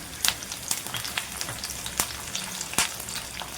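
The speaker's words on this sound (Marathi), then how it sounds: "आता त्याच तेलामध्ये आपण ही लसूण परतून घ्यायची आहे" Garlic, green chilies and curry leaves frying in hot oil in a pan, a soft steady sizzle broken by a few sharp pops and crackles, fairly quiet and close.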